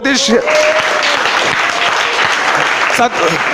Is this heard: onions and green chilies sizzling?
no